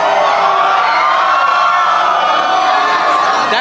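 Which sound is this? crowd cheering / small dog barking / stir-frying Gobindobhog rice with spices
crowd cheering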